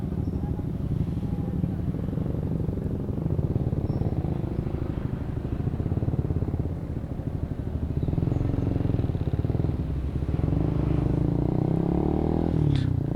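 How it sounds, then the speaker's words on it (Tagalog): A motorcycle with an open throttle body and a loud muffler rumbles continuously while being ridden on a road loop, a close, throbbing exhaust drone with rising engine pitch toward the end. "Etong muffler, kaya lang naman nagmumukhang maingay dahil sa open na na throttle body."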